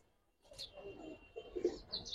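Giribaz and coloring pigeons at a Bangladeshi pigeon seller give faint, soft coos in a few brief bursts, close but quiet against near silence.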